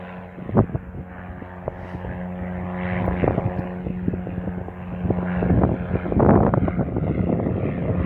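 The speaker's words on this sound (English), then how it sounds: "That little single-engined plane that's towing the glider up" A small single-engine propeller plane towing a glider up over hills, its steady engine drone rising and falling in loudness throughout, with gusty wind buffeting the microphone and no talking.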